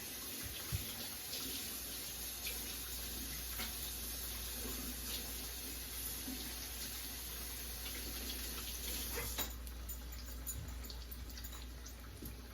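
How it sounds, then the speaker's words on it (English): Tap water runs steadily into a kitchen sink while hands are washed, a continuous quiet hiss and splash throughout with small shifts as hands move under the stream. "Let me wash my hands a little bit."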